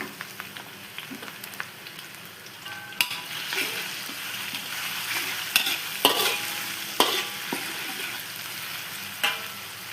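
Garlic and ginger frying in a pan for prawn sambal, a soft steady sizzle broken by sharp clinks and scrapes of a spoon stirring, close and moderately loud.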